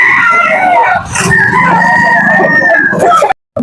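A rooster crows loudly and close, one long drawn-out call over a background of chatter and noise, ending abruptly.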